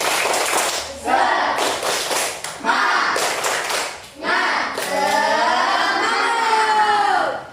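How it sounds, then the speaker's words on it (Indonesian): A classroom of children does a rhythmic spirit clap, with bursts of patterned hand claps and thumps alternating with loud chanted young voices, close and lively. "Biar lebih semangat, kita tepuk semangat dulu. Tepuk semangat."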